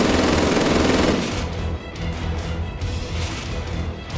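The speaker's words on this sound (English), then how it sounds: "Enough! I shall just shoot you!" Heavy, dense gunfire in Team Fortress 2, a loud sustained burst of rapid shots and crashes that continues with rattling impacts and bangs, close and chaotic.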